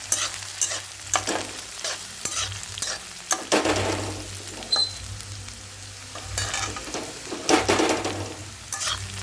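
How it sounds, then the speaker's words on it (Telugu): Okra frying in a pan, a steady sizzle with intermittent stirring scrapes and clinks rising and falling throughout, no voices. "బెండకాయలు అయితే బాగా వేడిపోయాయి"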